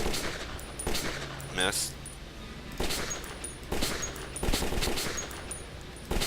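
In Metro 2033, rapid gunshots crack at a firing range in repeated short volleys over a low hum. Someone talks briefly between the shots.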